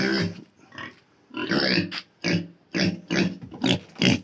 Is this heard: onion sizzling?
no